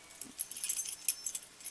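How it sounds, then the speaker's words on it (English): Car keys jangle in a bright, metallic rattle of quick small clinks lasting under two seconds, close up with no talking. "Let me throw away the keys."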